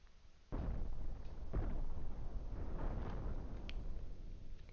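Cannon shots strike an airship in a video game, a sequence of heavy booming impacts with crackling bursts, one sharp hit after a short quiet lead-in and several more rolling blasts following close together.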